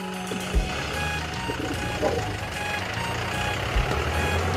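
A reversing lorry's beeper sounds in a steady series of short tones alongside the low rumble of an idling truck engine, with a few thumps and voices of people talking nearby.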